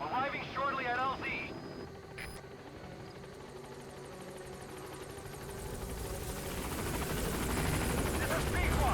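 A helicopter arrives at a landing zone in Metal Gear Solid V, its rotor thrum growing steadily louder and nearer, while a radio voice speaks briefly at the start.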